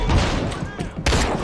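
Dense bursts of gunfire in the stealth shooter Splinter Cell: Blacklist, loud overlapping shots and thuds crowding the short stretch, with a sharp burst near the end.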